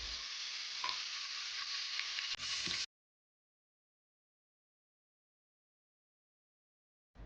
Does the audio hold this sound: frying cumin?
yes